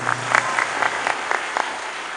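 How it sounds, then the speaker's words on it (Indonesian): Applause from a crowd of thousands gathered at a village religious gathering, a steady broad wash of many hands with faint rhythmic clap bursts standing out, continuous and fairly loud with no talk over it. "Tepuk tangan buat Desa Silotumbong."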